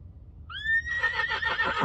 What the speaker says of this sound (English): Make a horse sound.